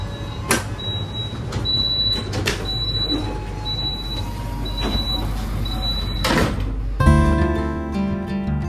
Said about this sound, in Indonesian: Ini pintunya nutup lagi ya harusnya.